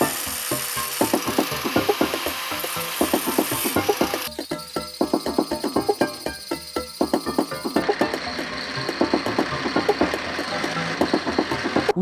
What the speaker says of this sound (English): We have finally managed to get these stupid bolts off.